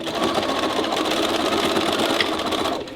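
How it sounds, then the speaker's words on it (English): A sewing machine runs a continuous straight stitch along a visor bill, its fast, even mechanical chatter close and steady for the full stretch before easing off at the end. "start sewing from up here. Straight stitch."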